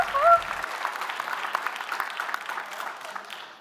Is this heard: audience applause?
yes